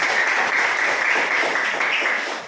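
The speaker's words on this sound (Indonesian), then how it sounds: "berikan aplaus untuk semua" A classroom group applauds, with steady sustained clapping from many hands filling the space at constant loudness before tapering slightly at the end.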